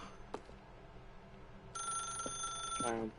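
An electronic telephone rings steadily in the video game The Stanley Parable, a bright sustained trill that starts partway through and stays moderately loud, with faint speech and ambience beneath it.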